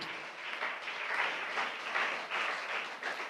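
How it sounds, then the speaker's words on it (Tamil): A church congregation claps in thanks to the Lord, steady applause from many hands. It is fairly soft and heard at a distance, with small swells in rhythm and no talk over it. "நல்லா கைத்தட்டி ஆண்டவருக்கு ஒரு நன்றி சொல்லலாம்"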